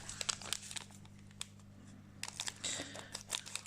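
A trading card booster pack from a Rise Candypocalypse display is torn open by hand: sharp crinkling and tearing foil bursts come in irregular clusters, close and fairly quiet, separated by brief pauses over a low steady hum.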